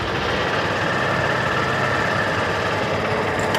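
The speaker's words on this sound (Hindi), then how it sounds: "मैं आपके लिए एक बार बाइक स्टार्ट कर रहा हूं।" A Honda Shine 100 motorcycle engine running at idle, a steady close mechanical chug and low rumble that continues without a break, with no speech.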